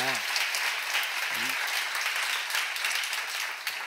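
Congregation applause in a church seminar hall, a dense steady wash of clapping from many hands that fills the whole clip, with a brief voice at the start.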